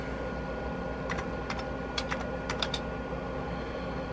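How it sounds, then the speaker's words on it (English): Scattered clusters of key presses on a computer keyboard, typing commands on a 1985 Commodore PC-10, sound over a constant hum from the machine, close by with no voices. "Okay, so I type get up."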